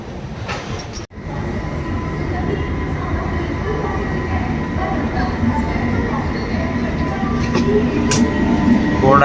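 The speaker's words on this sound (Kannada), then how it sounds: "Train number 20104 Azamgarh Lokmanya Tilak terminus superfast express is coming on." Azamgarh–Lokmanya Tilak Terminus superfast express pulling into platform 3 at a busy station, a steady loud rumble of rolling wagons with faint wheel clatter that builds slightly, with station noise throughout.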